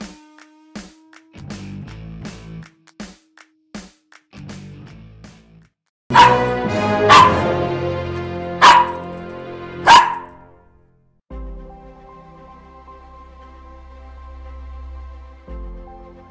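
An aggressive Rottweiler barks in several loud, sharp bursts in the middle of the clip, with quieter scuffling and thuds before and a low steady hum after.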